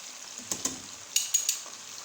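Chicken and potatoes frying in a pot, a faint soft sizzle with a few brief scraping stirs and light clinks, no voices.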